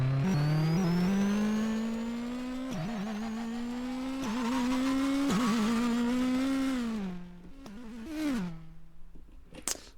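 A rally car engine in a video game drones and shifts pitch as it revs, dropping away with a sliding Doppler tone near the end as the camera passes, smooth and synthetic-sounding.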